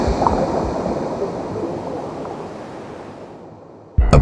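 Ocean waves surging and washing in a dense low rumble, loud at first and slowly fading toward quiet before a sudden sharp burst of noise at the very end.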